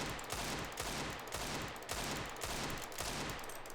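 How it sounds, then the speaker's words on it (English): A Desert Eagle pistol in CS:GO fires shot after shot in quick succession, each close, loud crack landing roughly every half second with no pause between them. "So if I spam the Deagle"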